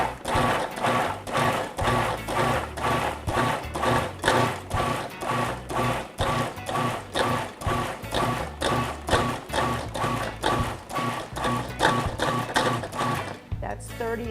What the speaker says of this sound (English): I'm going to pulse all of my vegetables to really, really finely mince them,